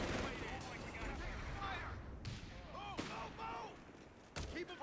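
Artillery barrage in Company of Heroes 3: repeated booms and crackling bursts of battle noise, with several sharp impacts standing out over a dense game soundscape, with a voice talking over it.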